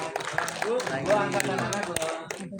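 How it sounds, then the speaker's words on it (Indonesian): Scattered applause from a press-conference audience for a film's cast, a loose patter of claps that never settles into a steady rhythm, running under a host's voice and crowd chatter. "Tepuk tangan sekali lagi dong"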